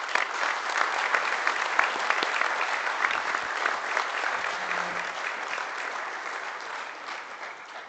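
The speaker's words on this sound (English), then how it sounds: "give those people a nice round of applause" An audience at a collegiate livestock judging awards ceremony claps steadily for several seconds, with crisp individual claps audible at first before the sound gradually softens and thins.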